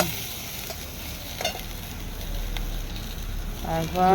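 Spring onions frying in a wok for eggplant bharta give a steady hiss and sizzle, with an occasional utensil scrape and a louder burst of crackle near the end.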